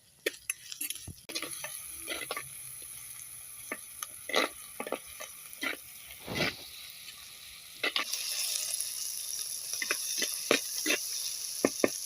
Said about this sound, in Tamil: எல்லாம் போட்டாச்சு நல்லா வதக்கிக்கலாம்